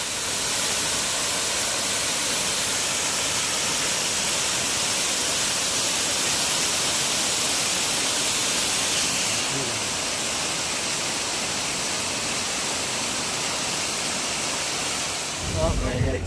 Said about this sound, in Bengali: দেখো কত সুন্দর ঝর্ণা।